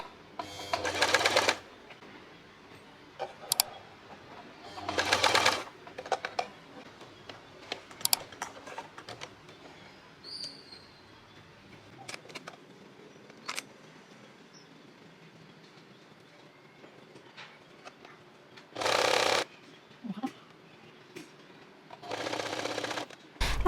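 A sewing machine stitches the side seams of a top with a 1.5 cm seam allowance, in several short separate runs with quiet handling and fabric rustle between them.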